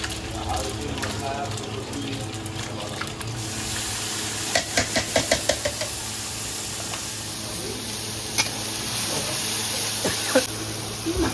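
Panch phoron spices hiss and crackle in hot oil in a hotel kitchen, a steady close sizzle with a short run of sharp pops in the middle and a voice talking faintly over it.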